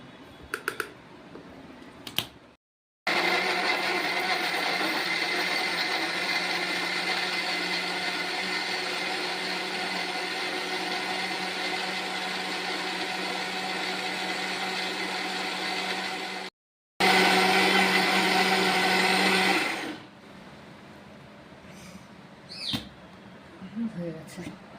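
A blender grinds ripe sour mango with sugar into a paste, a loud steady motor whir running for about fourteen seconds, pausing briefly, then running again for a few more seconds before stopping.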